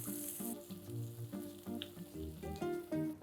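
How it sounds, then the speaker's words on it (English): Chopped garlic, four finely chopped green chilies and Madras onions sautéing in a pan for a Gujarati green garlic and baby potato dish, a gentle crackling fry running beneath louder background music. "Let's add in 4 green chilies finely chopped, the Madras onions. Saute them for a few seconds."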